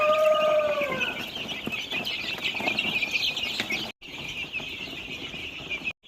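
Native country chickens cluck and chatter nearby, with a rooster's crow rising at the start, then busy clucking continuing over steady background noise.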